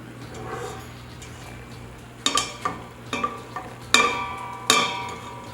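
Sugar browning in a hot pot as the start of curry goat: a low background sizzle, then several sharp metallic clanks and scrapes of stirring spaced about a second apart, close and without talk.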